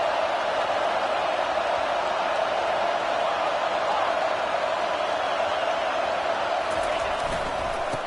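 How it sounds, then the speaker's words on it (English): Stadium crowd at a college football game between Alabama and Texas, a dense, continuous roar of cheering and noise filling the whole stretch at steady loudness with no break. "This crowd bringing the energy and noise early."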